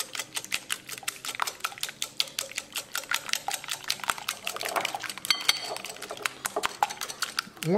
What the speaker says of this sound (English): Now we're going to mix them well.